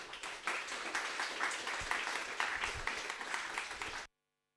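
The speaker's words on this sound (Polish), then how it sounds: "Więc brawa dla Łukasza Sarnackiego." Audience at a Python programming meetup clapping for the next speaker, a continuous patter of many hands that holds steady and then cuts off abruptly into silence.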